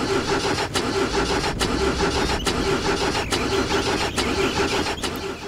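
A car engine in a racing video game played with a Saitek R100 Sports Wheel runs steadily and loud throughout, with a constant mid-pitched hum and several brief sharp dropouts at regular intervals, like repeated start attempts.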